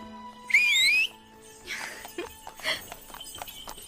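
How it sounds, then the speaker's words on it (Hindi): A person whistles a short rising, sliding tone, loud and close, followed by faint clopping knocks and background movement, with no talking. "लोग सीटी क्यों बजाते हैं?"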